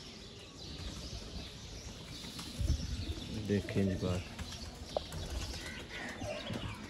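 Pigeons kept as pets in a loft cooing in low, soft bursts near the middle, with someone talking close by over quiet background noise.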